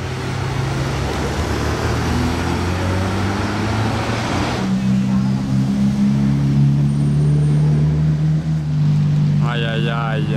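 A Tecnica sports car drives past among rare cars on a Monaco street, its engine note rising and falling as it passes fairly close over a steady traffic wash.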